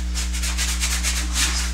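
Large paintbrush repeatedly dabbing and scrubbing paint onto canvas for an abstract painting, a soft rhythmic series of brushy strokes over a constant low electrical hum.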